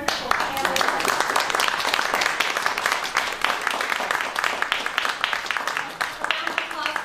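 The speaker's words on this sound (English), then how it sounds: "a round of applause for a wonderful family" Sustained applause from an opera talk audience honoring a family, dense and steady clapping filling the whole stretch without a break, with some voices mixed in.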